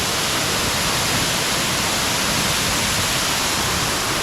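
Dark View Falls in St Vincent, its water pouring in a loud, steady, close wash of noise that fills the whole stretch with no voices.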